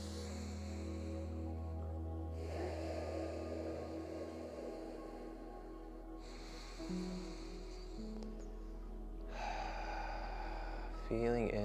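Smooth, rhythmic breathing accompanies a gentle side-waving spine movement practice, several long, soft breaths rising and falling in a slow, even cadence over quiet room noise.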